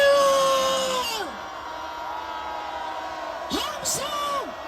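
A crowd at an anti-impeachment rally outside the Corruption Investigation Office roars in long, sliding collective shouts. The cheer fades, then a second burst of whoops and yells rises near the end.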